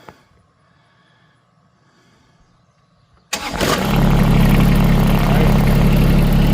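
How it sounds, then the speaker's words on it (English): A few quiet clicks and faint voices, then the small engine of a 2025 John Deere X758 all-wheel-drive lawn tractor starts abruptly with a key and settles into a loud, steady idle close by. "you're going to hear the engine sound"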